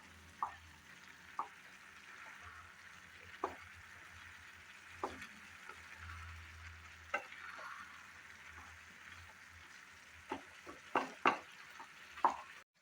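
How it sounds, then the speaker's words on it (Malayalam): Utensil scraping and stirring in a pan of bisi bele bath, with a series of sharp scrapes and clinks over a low background hum, growing busier toward the end. "നന്നായിട്ട് ഇളക്കി യോജിപ്പിച്ചു കൊടുക്കാം"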